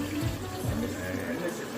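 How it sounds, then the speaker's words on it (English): Raspberry lemonade is poured into a drink in a short, steady liquid stream, with voices murmuring in the background. "So we're gonna put the raspberry lemonade in."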